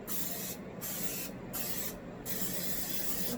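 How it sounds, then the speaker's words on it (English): Cooking spray hisses into a 9x9 inch baking pan for fudge brownies in three close, loud bursts separated by brief pauses. "cooking spray."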